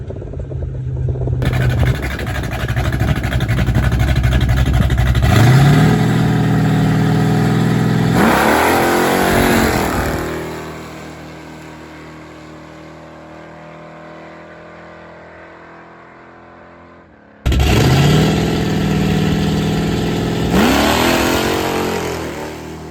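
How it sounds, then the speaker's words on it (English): A big block 1968 Ford Thunderbird drag racing with heavy wheel spin, loud engine roaring and revving up through a launch, fading away into the distance, then another close, loud burst of acceleration. "Big time wheel spin again, guys."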